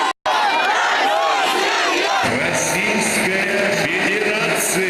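Olympic stadium spectators cheering and chanting for the arriving Russian team, a loud, dense crowd roar with rising shouts and sustained voices filling the whole stretch after a brief cut near the start.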